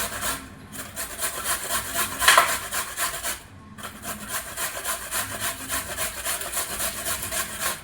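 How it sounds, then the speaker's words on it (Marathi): Carrots grated on a large-toothed grater, a steady rapid rasping scrape repeating in quick strokes with a brief pause midway, loud and close, no talk. "आता हे गाजर आपण किसून घेऊया."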